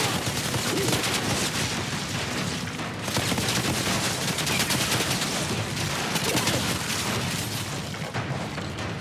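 Sustained, dense gunfire from the Outriders video game: rapid overlapping shots and bursts at close range. The barrage runs continuously at high loudness, with booms mixed in and no talk.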